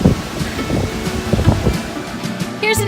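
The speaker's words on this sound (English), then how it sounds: "right now, so far it's just misty and windy" Gusty wind buffets the microphone on a misty mountain trail in Georgia along the Appalachian Trail, a loud, rough rumble that rises and falls with short bursts, with no voices.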